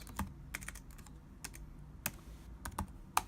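Rapid clicking of computer keyboard keys in irregular bursts, fairly close and quiet, with short pauses between strokes and no voices.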